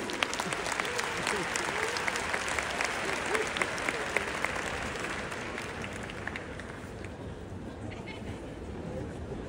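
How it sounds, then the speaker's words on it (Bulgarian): A large arena audience of about 12,000 at a concert applauds, a loud dense wash of clapping and crowd noise that fades slightly toward the end, with a voice speaking briefly over it. "Аплодисменти!"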